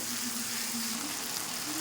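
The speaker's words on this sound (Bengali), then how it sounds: "টমেটোটা ভালো করে ভাজা হয়ে গেছে" Fried tomato masala sizzles in a pan for a short, continuous stretch, a constant, dense hiss with no voices.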